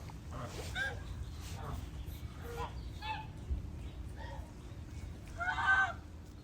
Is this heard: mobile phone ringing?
no